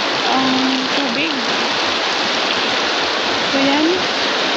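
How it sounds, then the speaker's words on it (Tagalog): Heavy rain pouring down during a typhoon with flooding, a dense, loud, steady hiss of water, with a voice briefly heard over it. "Kasi grabe ang ulan ngayon."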